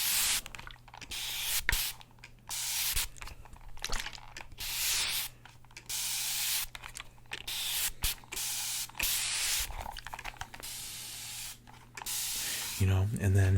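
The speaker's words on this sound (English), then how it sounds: "this is kind of like a longer lasting spray, so you could do like left to right." Longer lasting water spray swept left to right, close hissing bursts of a second or two repeating with short gaps over a faint low hum, ending in a different mechanical sound.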